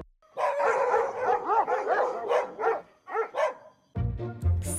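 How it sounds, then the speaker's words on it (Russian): Several dogs bark in a dog café in Prague, a rapid run of loud, close yips and barks with short pauses, then deeper barks at the end. "И Мишель, Арчи и Джек – собаки."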